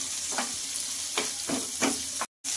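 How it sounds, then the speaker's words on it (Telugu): Tomatoes frying in a pan for ragi flour upma, a steady close sizzle with a few soft scraping stirs and no voices. "టమాటా బాగా వేగాలండి"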